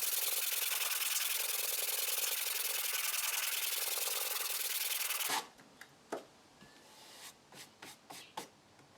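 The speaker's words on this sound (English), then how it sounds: "I'll use some sandpaper to remove the last of the old plywood and glue, and to get the surface ready for the new plywood." Sandpaper scrubs hard and steadily over old plywood and glue for about five seconds, a loud close rasping. Then it cuts off, leaving a few soft scattered taps and brushes.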